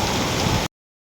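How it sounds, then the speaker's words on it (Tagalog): Heavy rain pours down steadily in Vietnam, a dense close hiss of drops on surfaces for about half a second before cutting out abruptly to silence, then resuming briefly at the end. "Sa lakas ng ulan."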